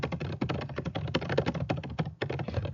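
Rapid, steady keystrokes on a computer keyboard, close up and continuous, with a brief pause near the end before the clatter resumes, and no voices.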